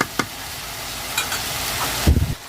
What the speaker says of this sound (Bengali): তো হালকা পাতলা একটু নাড়াচাড়া করে দিলাম